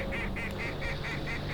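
Ducks calling as they fly in over flooded timber on an Arkansas duck hunt on a still, cloudy morning: a quick, evenly paced run of about seven nasal honking calls at moderate distance.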